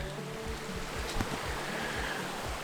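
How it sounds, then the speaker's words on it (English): Cedar Creek on the Manistee River Loop in Michigan flows with a continuous, moderate gurgling rush of water close by, with no voices. "I stopped at Cedar Creek, which is right behind me here"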